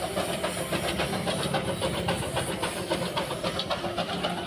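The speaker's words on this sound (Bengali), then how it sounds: "ট্রেনে কলকাতা থেকে এনজেপি নামার পরই দেখা মিলল সেই টয় ট্রেনের।" Darjeeling toy train at New Jalpaiguri station, a steady mechanical rumble with hissing and clattering, moderately loud and continuous throughout.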